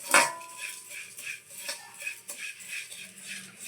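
Flattened rice (aval) is tossed and stirred in ghee in a pan for aval ladoo, with light repeated scraping and metallic clinks of a spoon against the pan in a fairly quick, uneven rhythm.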